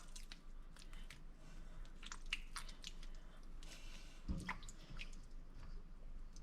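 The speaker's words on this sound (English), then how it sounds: "Squeeze all that extra moisture out." Soft wet squishing and dripping up close as fresh butter is squeezed in cold water, irregular squeezes and splashes in a quiet room, with one brief louder thump.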